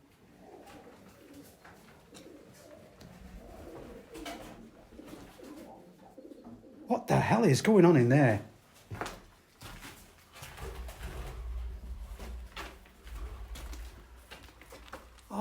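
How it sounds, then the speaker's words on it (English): Pigeons coo in a derelict room of an abandoned dairy farm, a burst of loud throaty cooing and fluttering rising over quiet background; someone briefly speaks beforehand. "This is the pigeon farm."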